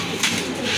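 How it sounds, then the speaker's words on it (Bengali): A fresh pigeon just let go, giving a short near coo against low background noise, with no talking. "একবার ফ্রেশ কবুতর এই দেখেন"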